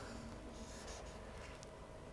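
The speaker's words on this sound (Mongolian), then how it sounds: "За тэгээд одоо амаа зурж байна." Pencil scratches faintly across paper during a fine-arts drawing lesson, a soft, continuous scraping rasp heard quietly and alone.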